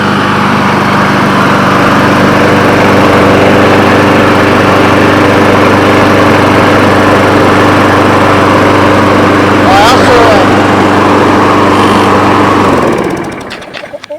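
A Briggs & Stratton BRUTE 22-inch front-wheel-drive lawn mower, model 7800583, runs loud and close with a steady engine drone for about thirteen seconds before cutting out, and a voice is briefly heard over it.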